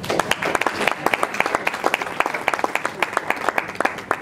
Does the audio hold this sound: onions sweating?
no